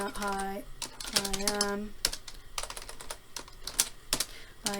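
Quick, uneven clicks of a computer keyboard being typed on, keys tapped in short bursts with pauses, close by, mixed with a voice and some tonal sounds.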